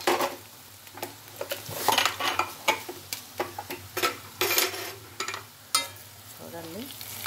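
Bitter gourd frying in a pan: a steady sizzle under repeated scraping and stirring strokes and clinks of a utensil against the pan, close up, with no talking.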